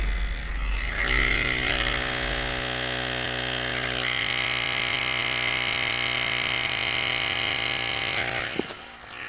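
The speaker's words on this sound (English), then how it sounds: "Start the pump." An Airmoto compact air pump inflating a tire runs as a loud, steady motorized drone for several seconds, ending with a sharp click as it stops.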